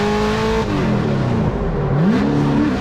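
Formula Drift car at Road Atlanta with its engine howling loud and near, pitch holding, dipping, then climbing again as it runs up the hill with little drift angle, over steady tyre and track roar.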